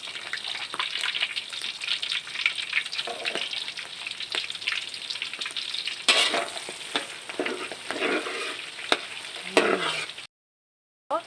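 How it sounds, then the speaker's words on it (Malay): Beef lung fries in hot oil with a continuous loud sizzle and crackle, stirred now and then, before cutting off abruptly. "Kita nak goreng paruh dia pula."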